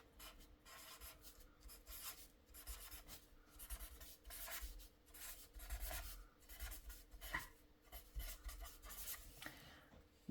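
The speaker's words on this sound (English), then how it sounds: "you can do what I will do now by writing really fast and really scribbly" A marker scribbling fast across a mixed-media collage with graffiti lettering, a quiet run of rapid rubbing strokes in bursts, close and with no voices.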